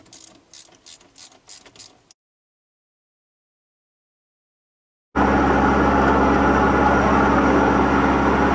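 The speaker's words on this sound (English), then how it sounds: "Let me get your ratchet" Ratchet wrench clicking in a quick run of sharp repeated clicks for about two seconds, used on a hot, partly melted part during a Hillbilly Deluxe rebuild with crushed seams, followed by silence and then a loud steady broadband roar.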